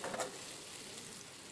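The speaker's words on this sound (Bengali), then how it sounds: "এই দেখো ভাজা বসিয়ে দিয়েছি ডালের সাথে।" Elephant foot yam slices fry in a pan alongside dal, a faint, steady sizzle throughout the short stretch with no voices.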